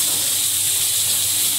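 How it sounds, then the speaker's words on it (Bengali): Dried chili, chopped onion and garlic sizzling in hot oil left from frying fish, a loud, unbroken, close hiss with no pauses. "তেলে একটু শুকনো লঙ্কা, পেঁয়াজ কুচি আর একটু রসুন কুচি দিলাম"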